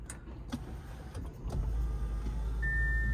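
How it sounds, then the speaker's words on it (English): A 2022 Audi A6 55 TFSI starts up from inside the cabin: after quiet clicks and a whir, a low engine rumble rises and settles into a steady idle. "So if we start the car"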